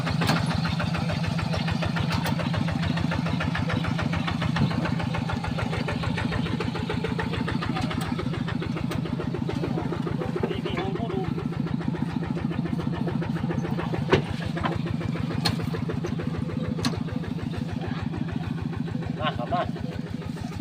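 A vehicle engine runs steadily as the vehicle is driven down, a continuous mid-pitched putter with a fast regular rhythm, fairly close and even in level throughout, with a few faint knocks over it.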